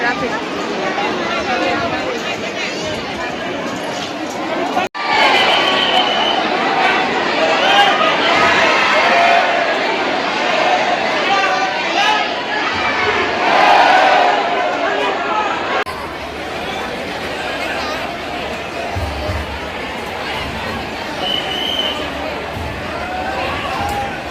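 Large crowd of devotees queued for darshan at Salangpur Hanuman temple, a dense steady babble of many voices close around with occasional louder calls, continuous throughout.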